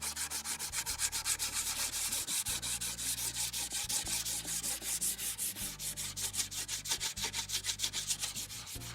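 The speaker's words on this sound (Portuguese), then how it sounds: "a lixar assim para deixar a tua peça bem macia" Sandpaper rubs back and forth over a small cut wooden piece, a quiet, even scratching in regular strokes with no talk.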